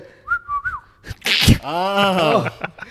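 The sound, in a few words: whistled imitation of a bird call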